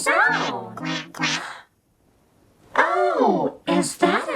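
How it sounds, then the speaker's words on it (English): A duck quacks loudly and close in two bursts of rapid, nasal quacks, with a short silent gap between the groups. "Oh, is that a duck?"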